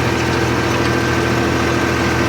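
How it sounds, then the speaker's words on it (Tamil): A farm engine works under load at around 1500 rpm in a village coconut grove, giving a loud, unbroken, steady drone with a deep low rumble and no voices over it. "ஆர்பிஎம் பார்த்தீங்கன்னா ஒரு ஆயிரத்தி ஐநூறு ஆறுநூறு ஆர்பிஎம் அந்த மாதிரி ஒரு ரெண்டு ஆர்பிஎம் ட்ராப்பேஜில் ஓடுது லோடு பிடிச்சிக்கிட்டு"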